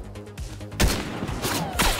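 Gunfire in the Fortnite video game: a rapid string of sharp shots rattles off in several bursts, close and fairly loud, with no talking.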